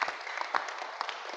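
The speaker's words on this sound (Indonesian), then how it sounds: "Terima kasih, tepuk tangan semuanya." Applause from a school group at an SMK event: a short burst of scattered, uneven clapping from many hands, fairly soft and close, with some faint voices underneath.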